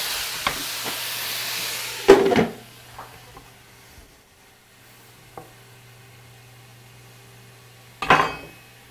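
Duck sears in a frying pan. A steady sizzling hiss fades after the first couple of seconds, and a few soft clanks of the pan break the quiet. Nobody speaks.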